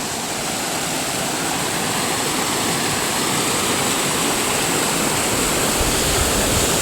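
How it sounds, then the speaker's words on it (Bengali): River water rushes steadily at Bijanbari in Darjeeling, a loud, unbroken roar of flowing current that stays even from start to finish, with no voices over it. "সেই জলের আওয়াজ শুনতে পাচ্ছ তোমরা?"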